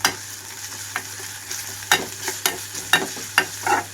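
Onions fry in a pan for egg biryani with millets, a steady sizzle broken by repeated scraping stirs of a spatula at an uneven rhythm, close and moderately loud.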